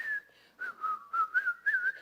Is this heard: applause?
no